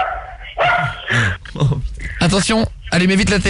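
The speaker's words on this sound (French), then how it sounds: "Ah merde, ça c'est le chien." A dog barks in a radio sound-effects guessing game, several sharp yapping barks mixed in with loud talking.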